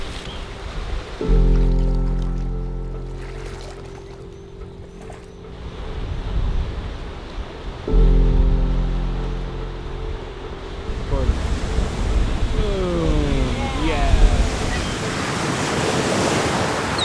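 Ocean surf rolls in at Otter Point along the rocky Acadia National Park coastline, a steady wash of breaking waves mixed with wind noise, swelling and easing over time with no voices.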